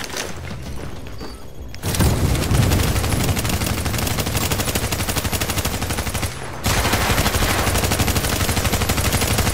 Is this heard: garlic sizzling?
no